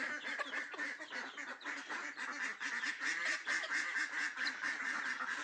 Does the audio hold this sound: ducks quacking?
yes